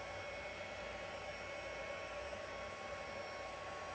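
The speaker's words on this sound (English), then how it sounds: "we're going to heat emboss all 3 of them" Heat tool blowing hot air to emboss stamped balloon images, a steady, even, moderately quiet rushing hiss that runs unbroken throughout.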